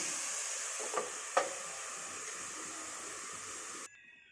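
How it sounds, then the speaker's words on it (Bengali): Papaya frying in a little oil, a soft, steady hiss with two small stirring knocks early on, then cutting off abruptly near the end. "এটা অল্প তেল দিয়ে পেঁপে ভাজাটা হয়"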